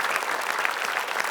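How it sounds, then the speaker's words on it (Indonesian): Studio audience clapping at an Indonesian TV quiz show, a dense steady burst of applause filling the whole short moment with no voices above it. "tepuk tangan buat saya, ayo"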